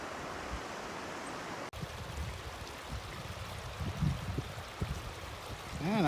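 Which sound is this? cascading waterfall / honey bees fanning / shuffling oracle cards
cascading waterfall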